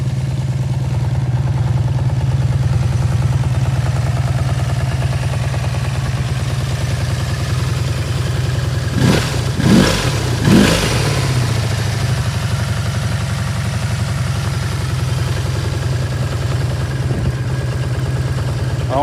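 A restarted motorcycle engine with carburettor needing adjustment runs steadily at idle, with a cluster of short, sharp revs near the middle before settling back to a constant, fairly loud drone.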